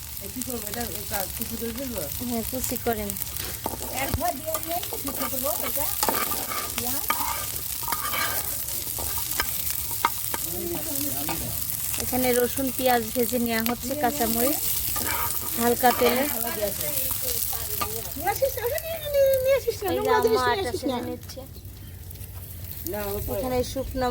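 Curry leaves fry in a pan over a wood-fired stove with a continuous sizzle and stirring scrapes, while a person talks over the cooking most of the time.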